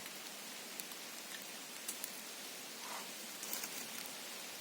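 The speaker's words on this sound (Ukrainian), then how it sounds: "Нехай йде, дощик потрібний." Light rain patters steadily on a surface, soft and even, with a few scattered heavier drops and no voices.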